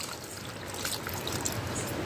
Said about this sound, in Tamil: ஓகே, தண்ணி ஆட் பண்ணிக்கலாம்.